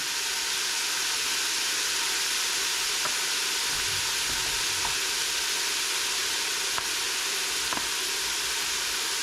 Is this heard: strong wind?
no